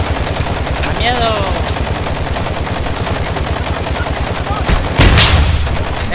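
Sustained rapid automatic gunfire in Warzone during a shootout inside a mall, loud and close, with continuous rattling bursts and a heavier blast near the end.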